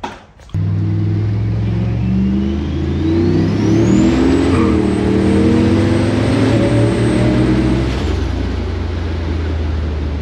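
A turbocharged LS-engined Holden Kingswood accelerates hard, its loud deep engine note rising and the turbo whine climbing steadily for several seconds before it levels off, recorded from inside the car.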